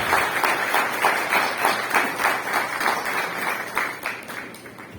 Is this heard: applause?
yes